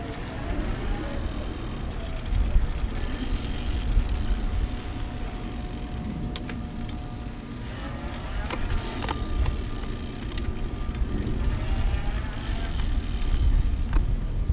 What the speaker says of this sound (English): Watch the motor.